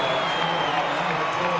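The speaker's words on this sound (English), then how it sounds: "And it's really set the crowd alight as well." A stadium crowd at a 2003 Rugby World Cup match between Italy and Tonga roars and cheers after a successful kick, a dense, sustained wall of noise with applause mixed in, steady and loud throughout.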